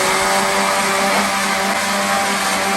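Pancake pizza batter of flour and other ingredients whirring in an electric blender, a loud steady motor drone held without a break.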